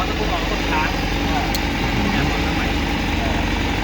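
A new Honda CBR1000RRR motorcycle engine idles close by with a steady, dense mechanical rumble, while people talk softly underneath.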